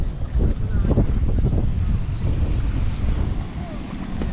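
Strong wind buffets the microphone in deep, rumbling gusts over rice paddies, loud and continuous, with faint voices underneath.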